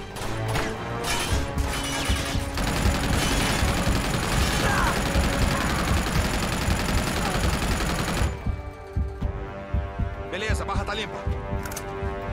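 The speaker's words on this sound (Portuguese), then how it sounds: "E se eu usar a metralhadora, será que dá?" Machine gun fire in Uncharted 2 rattles in dense, loud bursts of rapid shots for several seconds, then breaks off into scattered shots and game sounds, with a player talking over the action.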